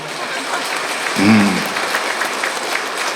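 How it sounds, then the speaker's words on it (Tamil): An audience at a student honouring ceremony claps together in a dense, continuous wash of applause, with a brief tonal swell partway through. "இப்போ கைத்தட்டுங்க பார்க்கலாம்."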